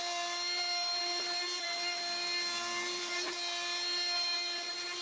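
A desktop CNC machine cuts aluminium at shallow depth and slow feed, giving a steady, high-pitched whining tone with faint scraping and occasional small clicks, continuous and fairly quiet throughout.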